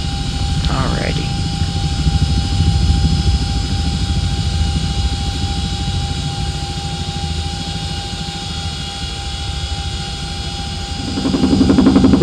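A CH-47D Chinook helicopter hovers in the X-Plane 11 flight simulator, giving a loud, continuous rotor and turbine drone with steady tonal whines. The sound swells slightly near the end.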